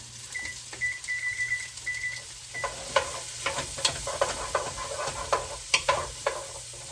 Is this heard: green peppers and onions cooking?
yes